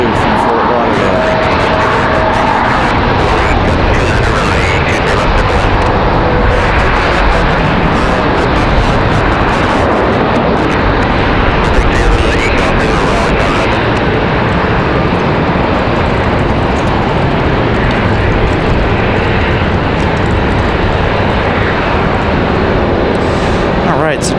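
A JetBlue airliner from Fort Lauderdale coming in to land at Raleigh-Durham International Airport on a second attempt in windy conditions, a broad, steady engine roar mixed with wind noise and a person talking over it.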